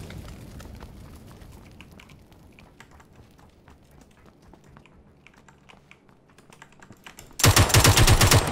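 A sharp burst of rapid gunfire from the video game PUBG erupts loudly near the end, after a stretch of quiet keyboard clicking and typing.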